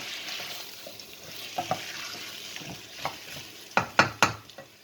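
Butternut squash fried in a pan with spices for a Sri Lankan curry, a soft steady sizzle broken by scraping stirs and a few sharp clattering strokes near the end, no voices.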